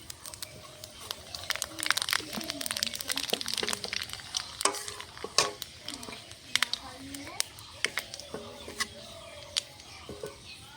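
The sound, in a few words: dried red chili and panch phoron frying in oil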